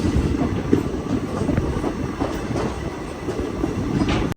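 The Ajanta Express runs through the night past Nagarsol toward Rotegaon in Maharashtra, a close, steady rumble of wheels on rails with faint rhythmic clacks throughout.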